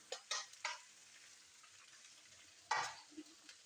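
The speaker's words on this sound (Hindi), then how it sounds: "तो ऑयल गर्म हो जाए तो भिंडियों को फ्राई करते हैं।" Okra pieces frying in hot oil in a home kitchen, with a few sharp stirring scrapes and sputtering bursts over a low, steady sizzle.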